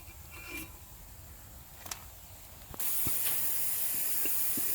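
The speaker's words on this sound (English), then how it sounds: "so we're done cutting this rotor" A brake lathe resurfaces a brake rotor, starting with quiet clicks and scrapes before a loud, steady, bright hiss of cutting abruptly takes over and continues without a break.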